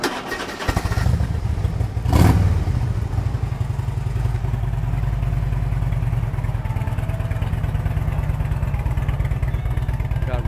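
A 2007 Harley-Davidson Electra Glide Classic with a 96 cubic inch six-speed V-twin fires up, gives one quick rev, then settles into a loud, steady, loping idle close by.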